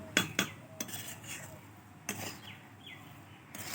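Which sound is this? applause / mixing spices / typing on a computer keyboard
mixing spices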